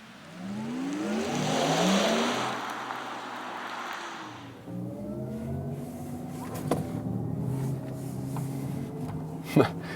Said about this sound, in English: There was a jump from 0 to 50 kilometers an hour.